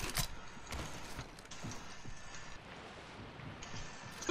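In Apex Legends, hooves clip-clop in an uneven, close rhythm with some mechanical clatter mixed in. The sound stays fairly quiet throughout, with no talk over it.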